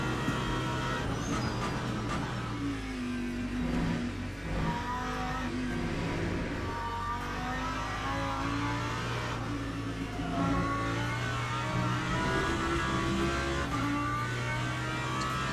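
GT3 race cars, including a McLaren and a BMW, circle Spa in the sim racing game Le Mans Ultimate, with engines whining and shifting through gears in a continuous loud drone.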